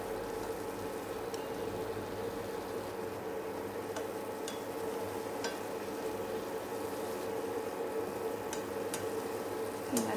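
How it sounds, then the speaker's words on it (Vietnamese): Bitter leaves being stir-fried with chicken offal in a pan, a steady, fairly loud sizzle with scattered small clicks of stirring running throughout, no voices. "Cho lá đắng vào, bạn cũng xào cho nó ngấm gia vị"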